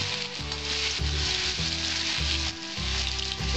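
Chopped garlic sizzles steadily in hot oil as a tempering for masoor dal with jute leaves, a loud continuous crackling fry with faint clinks of a spoon over a low background hum, no voices.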